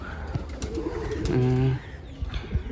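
A pigeon gives a low, throaty coo close by, with some faint voices and outdoor noise around it.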